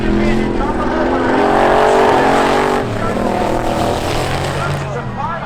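Drag racing cars, including a Chevy Vega, race at Seekonk Speedway with loud engines droning and shifting pitch as they run close together, and an announcer talks over them.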